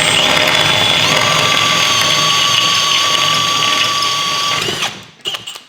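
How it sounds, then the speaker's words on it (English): A power drill fitted with a larger bit bores into a 6.2L LT1 V8 Chevy engine part, a loud continuous whine with a rising pitch that cuts off and leaves a few clicks. "Now, bigger drill bit."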